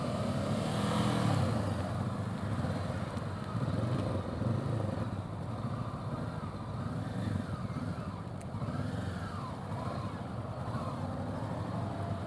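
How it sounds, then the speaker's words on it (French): A motorcycle engine revs and rises and falls in pitch during U-turn practice on a gentle slope, a steady mechanical drone heard faintly at a distance. "Binge, fais gueuler le moteur avant de tourner."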